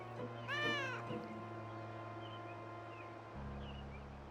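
A cat meows a few times near the start inside the video game Shadow of Destiny, a short rising-falling cry over a steady hum of game background sound.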